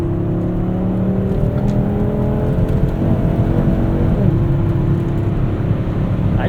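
A 1996 Volvo 850 R drives along with a steady, loud engine drone and road noise throughout, the pitch wavering slightly as it rises and eases.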